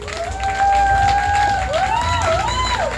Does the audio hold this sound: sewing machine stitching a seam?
no